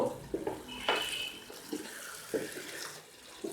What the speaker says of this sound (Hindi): थोड़ा सा पानी इसके अंदर मैं मज़ीद ऐड करती हूँ, 1 चौथाई कप के बराबर, ताकि आलू नरम हो जाए